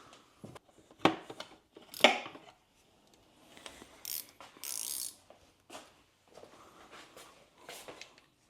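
Ratchet wrench clicking in short bursts while a carburetor is removed from a 1972 VW Beetle, with close, intermittent ratcheting and metallic tool handling separated by pauses.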